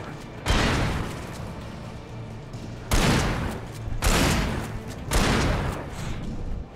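Flashbang blasts go off in Alan Wake at a mining museum, four loud, sharp bangs spaced a second or two apart, each trailing into a dense, crackling rumble that barely fades before the next.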